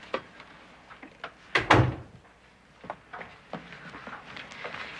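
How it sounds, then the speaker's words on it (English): An indoor door opens with a sharp thud and rattle midway, set among light footsteps and small handling knocks in a quiet room. "I'll open the door."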